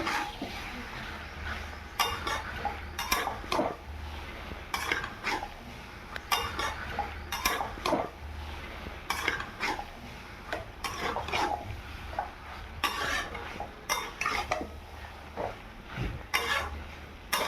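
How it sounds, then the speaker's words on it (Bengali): Pointed gourd and fried prawns stirred and sautéed in a pan, with repeated scraping spatula strokes against metal over a low continuous sizzle, close and rhythmic. "এবার এটার সঙ্গে আমি ভালোভাবে মিশিয়ে কষে নেব"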